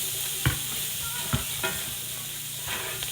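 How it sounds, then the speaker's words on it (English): Brussels sprouts with pancetta being stirred in a pan, a steady sizzle with a few distinct spoon knocks against the pan, close and even-toned. "We're going to give that a little bit of stir."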